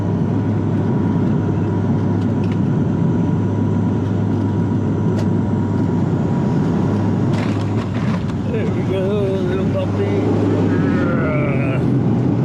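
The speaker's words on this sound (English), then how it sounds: "putting on the brakes really hard, and the reverse props here pretty hard too here, so we're shaking around here a bit" A propeller airliner lands on a short runway on São Miguel Island in the Azores, braking hard with reverse props. Cabin noise is a steady loud roar and rumble with some rattling. A voice is heard briefly.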